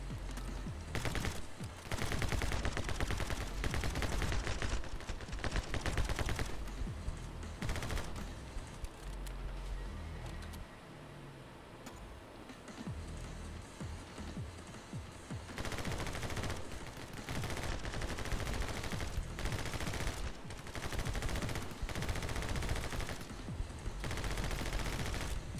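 Rapid gunfire bursts and machine-gun volleys fill the video game My Friend Pedro, loud and nearly continuous with a brief lull in the middle.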